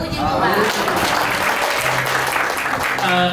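Audience applause at a church Christmas celebration, a steady wash of clapping filling the hall for several seconds, with a voice speaking over it near the end.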